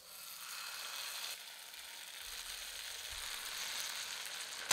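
Bread batter sizzling as it is poured into a hot pan with mustard seeds and white sesame seeds, a steady close frying hiss with no talk.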